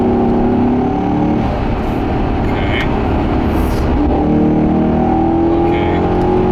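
A 2015 Maserati GranTurismo Sport Convertible engine roars steadily and loud throughout, rising and falling in pitch as it revs, with voices talking underneath.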